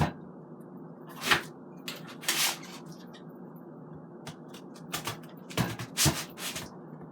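A knife cuts through a head of cabbage in a kitchen, making several separate crisp crunches and slices spaced irregularly and heard close, with quiet pauses between them.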